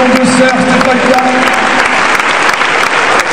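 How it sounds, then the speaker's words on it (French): Loud, dense crowd applause at a stage show presentation, continuous and close, with a voice speaking over it through the first half. "Énorme applaudissement à Samantha"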